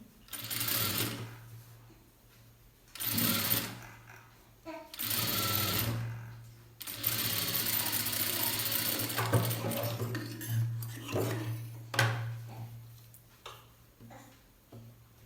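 Sewing machine stitching a blouse, running in several bursts of rapid mechanical whirring and ticking, a longer run near the middle, with a low motor hum between bursts and someone talking intermittently over it.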